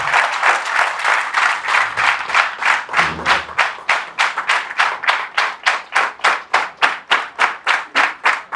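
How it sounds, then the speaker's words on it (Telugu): An audience claps in a big round of applause at an indoor business opportunity session, starting as dense overlapping clapping and thinning into a steady, rhythmic unison clap that keeps going to the end. "సో వీళ్ళందరికీ ఒకసారి నా తరపు నుంచి బిగ్ రౌండ్ ఆఫ్ అప్లాజ్."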